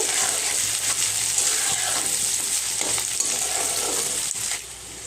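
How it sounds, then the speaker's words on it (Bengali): Chopped onions frying in a pan over tempered spices for a chicken curry, a steady close sizzle with faint stirring scrapes running through. "এখন দিয়ে দিচ্ছি পেঁয়াজ কুচি। পেঁয়াজটা আমি একটু লাল লাল করে ভেজে নেব।"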